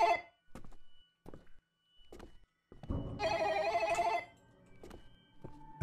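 A telephone rings once in the psychological horror video game The Telephone, a sustained electronic ring following a few soft thuds and footsteps in a quiet room.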